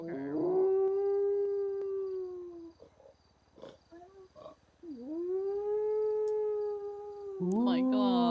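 A voice imitates a wolf howl with long, rising and falling sustained tones, twice, separated by a short quiet stretch with light movement noises; the second howl swells louder near the end.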